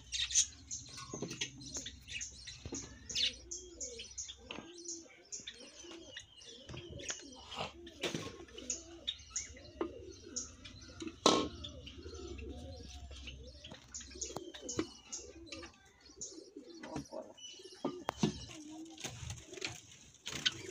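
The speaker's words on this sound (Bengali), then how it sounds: "এটা জাবা পাখির ঘর, এতে 15 পিয়ার জাবা আছে" Java sparrows in an aviary house holding fifteen breeding pairs chirp and twitter continuously, with soft coos and occasional wing flutters, faint and slightly distant.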